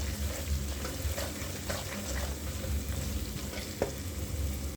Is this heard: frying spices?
yes